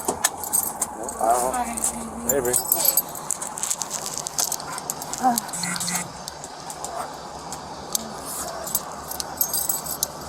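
Metal handcuffs being adjusted by a police officer beside a car, with quick jangling, clicking rattles in short bursts, heard under intermittent talking.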